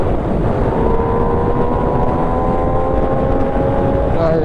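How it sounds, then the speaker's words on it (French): Heavy wind roar buffets the rider of an MV Agusta Dragster RR motorcycle, loud and close, with the engine's steady drone underneath and no talking. "Il y a trop de vent là."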